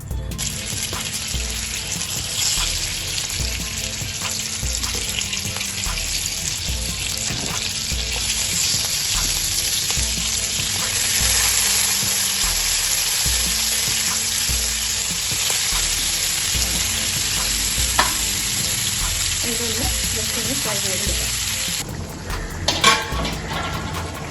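Sunflower oil frying in a hot pan, a steady, dense sizzle that holds loud and even throughout, with a few faint stirring clicks and a brief clatter near the end.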